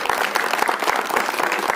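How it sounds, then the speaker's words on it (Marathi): Audience clapping for Nawab Malik at a public speech, a short burst of dense, close, steady applause. "एकदा नवाब मलिकांच्या कौतुकासाठी टाळ्या वाजवा"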